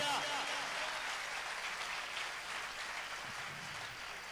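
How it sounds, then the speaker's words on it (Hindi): Audience in a church clapping in applause, a dense, steady wash of many hands clapping together for several seconds, sustained and even without pause. "जोरदार ताली उस परमेश्वर के लिए"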